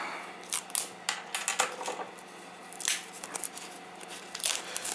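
HTC Windows Phone 8S packaging being unboxed: quiet, close crinkling, tearing and rustling of box and wrapping in irregular bursts, with no voices.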